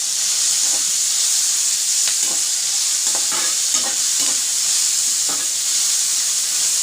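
Sliced onion and green chillies sauté in a hot pan for a chicken gravy, a constant hissing sizzle broken by repeated scraping stirs of a spoon, close and with no voices.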